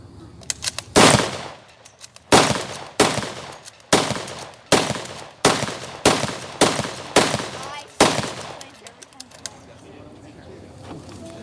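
Rapid British rifle fire in a Mad Minute demonstration at a World War Two reenactment: about ten loud, sharp shots spaced roughly a second apart, each ringing out with a short echo, with a voice talking faintly in between.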